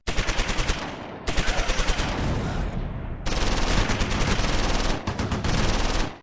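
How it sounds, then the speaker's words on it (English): In the Close Combat 4 video game, a machine gun fires at a WWII German Panzer at Simmerath in the Battle of the Bulge, sending loud, rapid bursts of gunfire broken by brief gaps and nearly filling the clip. "Gibbs's gun damages the Panzer."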